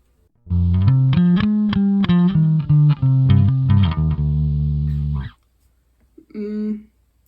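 An electric guitar played through an amp simulator's mid boost preset with added gain and drive on a Windows ARM64 Snapdragon computer in REAPER, loud sustained distorted chords for about five seconds, then a brief chord after a pause.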